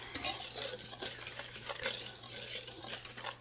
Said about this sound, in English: we'll whisk this first batch of ingredients together before we add some of our wet ingredients